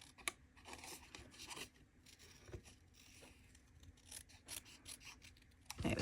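Scissors snip carefully around a paper embellishment in short, irregular close cuts with soft rustling paper between them, fairly quiet throughout.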